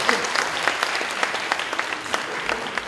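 Welcoming applause from a lecture audience as a guest speaker on workers and welfare is introduced, dense continuous clapping at moderate loudness.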